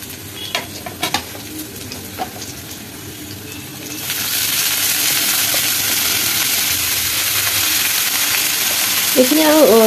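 Finely chopped leafy greens, to be fried with green chilli, salt and turmeric, hit a hot pan. Light tapping and stirring comes first, then a loud, steady sizzle and hiss that continues to the end.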